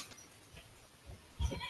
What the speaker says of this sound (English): We can, and even hear the goats